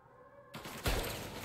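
A gun goes off in Mafia Definitive Edition. A quiet hum gives way to a sudden burst of noise, followed by a heavier, booming shot that rings out briefly.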